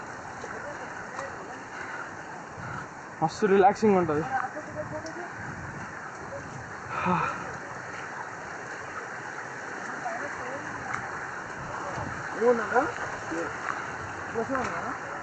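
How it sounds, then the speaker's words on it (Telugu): A continuous rush of a waterfall and flowing water during a monsoon trek in Maharashtra, a constant broad wash of noise with people talking over it at moments. "ఆ వాటర్ ఫాల్స్ సౌండ్"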